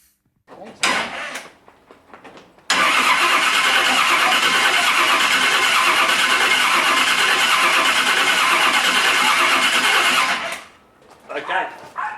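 A 1960 Holden FB Wagon engine is cranked and fires up, catching after a few brief sounds and then running loud and steady for several seconds before cutting back, with brief voices at the start and end.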